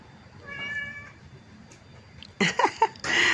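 A cat meows for drying salted fish set out in the sun, a faint drawn-out meow followed by two louder, closer cries, with soft household background noise.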